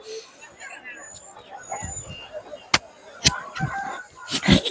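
Roosters and hens cluck and crow amid a busy weekly market crowd murmur, with sharp nearby clatters and a crow standing out near the end.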